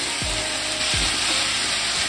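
Eggplant and pork stir-frying in a pan, a loud continuous sizzle with a couple of brief clattering stirs near the start.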